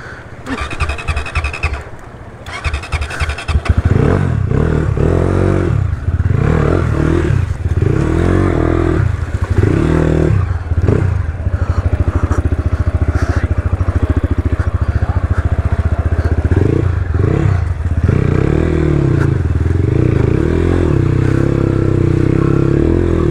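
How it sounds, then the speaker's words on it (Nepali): A motorcycle stuck on a snowy road near Daman, Nepal, revs hard and loud. It starts with spluttering bursts, then settles into a sustained, throbbing roar that rises and falls, with clattering and scraping mixed in. "अड्के हौ एक्सिलेटर छोडिदेऊ बाइक छोडिदेऊ"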